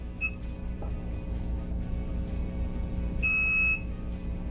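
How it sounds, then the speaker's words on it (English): Long electronic beep from an Ohaus Aviator 7000 price computing scale as it saves a PLU, sounding once near the end over a steady background hum, with a shorter beep earlier. "it had a long beep"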